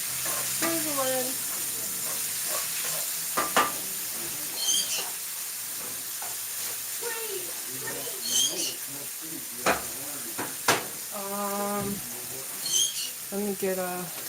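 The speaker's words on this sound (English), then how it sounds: "Sizzling." Food frying in a pan on a high burner gives a steady broad sizzle, with occasional stirring clatter and a voice and birdlike chirps over it.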